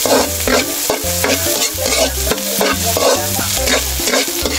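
Garlic and onion sauté in hot oil in a pan for Bicol express, a loud continuous sizzle broken by repeated scraping stirs, with no voices.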